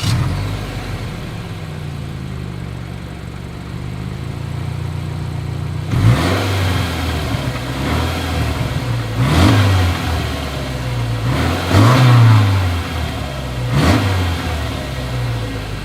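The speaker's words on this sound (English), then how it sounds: "As always, here is that exhaust clip." A 2021 Subaru Forester's engine idling through its exhaust, then revved several times in quick bursts, each rise and fall loud and near, with a low steady rumble between revs.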